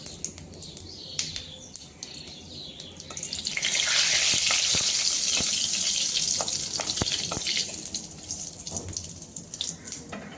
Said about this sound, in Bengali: দিয়ে দিচ্ছি 2টো শুকনো লঙ্কা ফোড়নে, গোটা জিরে আর 2 টুকরো দারচিনি